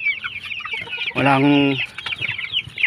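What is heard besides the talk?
chickens clucking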